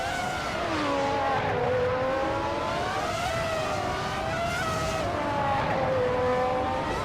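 Engines of race cars led by a 1998 Ferrari F300 at Autumn Ring in a racing game, a steady high-pitched whine that rises and falls with the revs as the pack holds a continuous roar.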